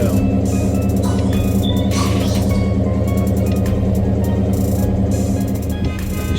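A restored box Chevy's engine idles loudly close by, a steady throbbing rumble with a regular pulse, with no speech over it.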